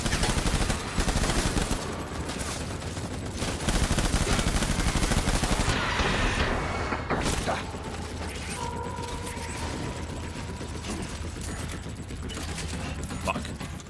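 Rapid gunfire from the video game Death Stranding rattles through a dense, loud mix of in-game effects, with bursts continuing almost throughout and a player talking over it.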